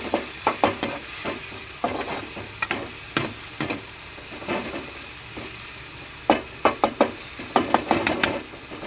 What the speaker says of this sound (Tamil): இதில் நம்ம தக்காளி வெங்காயத்தை போட்டு நல்லா வதக்கிக்கணும்.